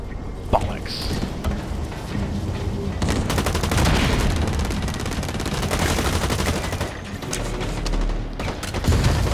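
Rifle fire in the shooter game Blacklight Retribution crackles in rapid, dense volleys with mechanical clatter, loud and close, continuing almost without pause while a player talks over it.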